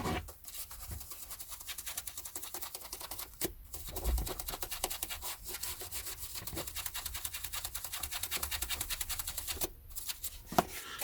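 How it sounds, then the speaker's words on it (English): A first edition hardback book with blue boards is rubbed and cleaned, giving soft continuous scratchy rubbing and brushing strokes, close and quiet, broken by a few short pauses and taps. "So do the top and bottom of the spine again, and then the rub."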